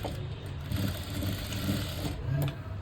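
Sewing machine stitching a trial blouse, running steadily with a continuous mechanical whir and a low hum, close and fairly loud with no talking.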